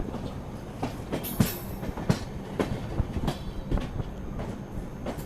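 Indian Railways Kaifiyat Express running toward Akbarpur and Ayodhya Cantt: a steady rolling rumble with rhythmic clickety-clack wheel beats over the rail joints, heard close from on board, with no talk.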